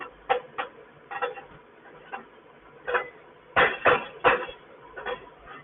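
Slag being chipped off an E6013 weld: a series of sharp metallic taps, single and in quick clusters, close by and irregularly spaced with short quiet gaps.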